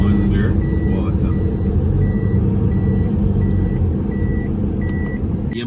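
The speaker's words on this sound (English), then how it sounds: "this is the traffic leading into Black River" Hurricane Melissa aftermath traffic heading into Black River: a loud, steady rumble of trucks and cars close by, with a reversing beeper chirping at regular intervals throughout.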